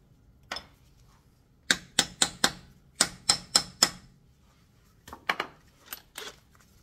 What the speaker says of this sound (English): you put it on your lug nut, you just tap that in a couple times